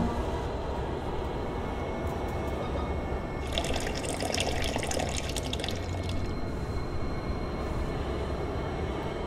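Water flowing and draining in the horror game Tormented Souls, a steady rushing, splashing pour that swells louder for a few seconds midway over a constant low ambient rumble.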